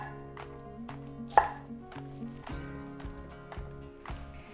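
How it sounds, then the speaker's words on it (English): A knife roughly chopping a shallot on a cutting board, with a steady series of sharp, close taps in an even rhythm and one louder knock partway through, and no talking. "I'm just gonna roughly chop it"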